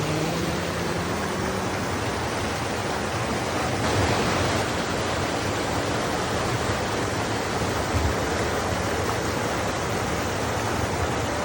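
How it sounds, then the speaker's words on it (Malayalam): Nordfjordeid waterfall in Norway roars in a steady, dense broadband rush of falling water, loud and continuous throughout with no pauses and no voices. "ഈ ഒരു വെള്ളച്ചാട്ടത്തിന്റെ ശബ്ദമാണ് ഈ ഒരു വീഡിയോയുടെ ജീവൻ തന്നെ"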